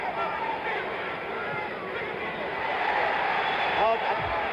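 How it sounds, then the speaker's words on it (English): A boxing crowd yells and roars during the Muhammad Ali vs. Ron Lyle fight, a dense, steady wall of voices that swells slightly toward the end. "Although the crowd yelled"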